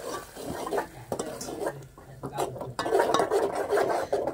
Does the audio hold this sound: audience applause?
no